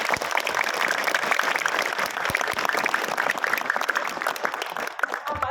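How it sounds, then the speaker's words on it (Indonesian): Students at a junior high school readathon applaud with dense, steady clapping that fills the room and holds at an even level throughout, with no talk over it. "Boleh dikasih tepuk tangan."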